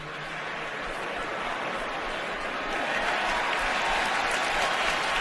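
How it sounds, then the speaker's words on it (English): Stadium crowd at a preseason Seahawks at Packers football game reacting to an interception by a former Packer, with loud sustained cheering and applause that swells slightly toward the end. "Fans react."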